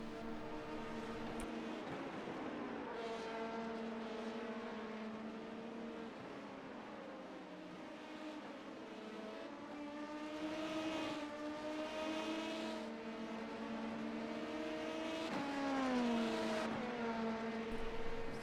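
An LMP2 prototype race car in the iRacing sim screams through its gears, engine pitch climbing and dropping through repeated shifts and braking over a continuous run.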